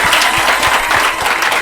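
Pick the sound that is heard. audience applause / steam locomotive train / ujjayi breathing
audience applause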